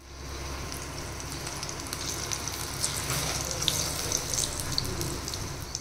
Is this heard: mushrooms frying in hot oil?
yes